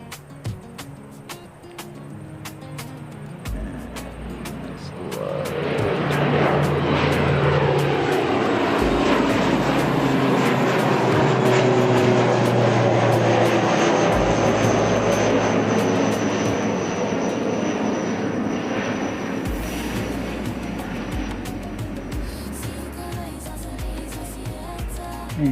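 A propeller airplane passes overhead at a spotting site, a steady engine drone that swells after a few seconds, holds loud and broad for most of the pass, then slowly fades as the aircraft moves off.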